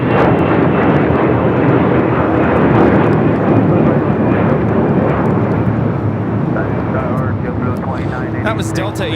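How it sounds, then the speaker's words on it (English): A Delta Airbus A321 departing LAX for Los Cabos, its engines roaring loud and steady throughout with broad rumble, fading slightly toward the end. "That was Delta 1875 taking off to Los Cabos on an A321."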